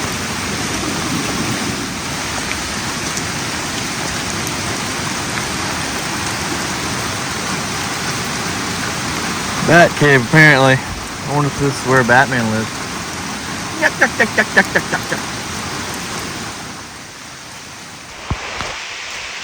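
Heavy rain hisses steadily and loudly beside a high, dirty creek during fishing, a dense unbroken wash of noise with someone talking briefly over it partway through.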